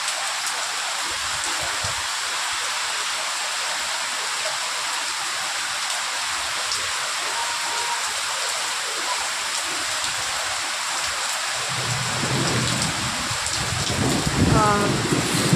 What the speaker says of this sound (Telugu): ఇంత రేంజ్లో పడుతుంది వర్షం